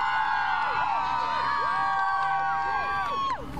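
A large crowd of fans at a live outdoor radio broadcast at the Colonial Center, with many overlapping whoops, yells and shouts rising and falling in a continuous, fairly distant roar.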